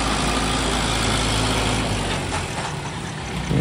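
A heavy truck on ten tyres hauls a large boat along a blocked 26-foot-wide road, its engine giving a steady, loud low rumble that eases slightly toward the end.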